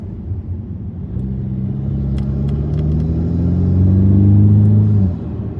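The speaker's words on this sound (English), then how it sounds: "car sounds wonderful at any speed," Acura TLX A-Spec with a V6 and 10-speed automatic, its engine humming low and steady, then swelling louder as revs climb before easing off, heard close with no talk.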